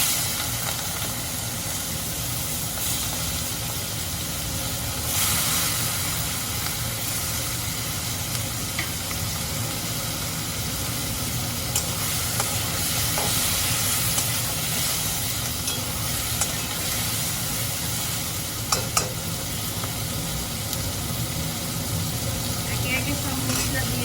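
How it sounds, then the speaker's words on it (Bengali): Shrimp fry in a pan with a steady, continuous sizzle and hiss, dotted with occasional stirring scrapes and pops, while a voice talks over it at times. "চিংড়ি মাছগুলো ভেজে নিচ্ছি"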